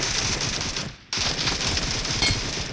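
Rapid automatic 7.62 rifle fire in a video game rattles out in dense bursts, loud and close, with a brief pause near the middle before the firing resumes.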